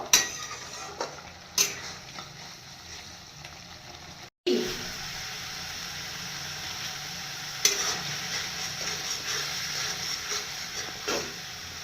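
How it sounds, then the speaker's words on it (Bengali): Chilli powder, turmeric and salt sizzle in a hot pan while being stirred, with a steady hiss broken by clattering scrapes and a brief pause midway. "মশলাটাকে ভালো করে কষিয়ে নেব।"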